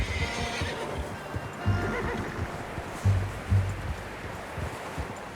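A horse in the video game Red Dead Redemption 2 whinnies and neighs several times while its hooves clop steadily underneath, with soft outdoor ambience around it.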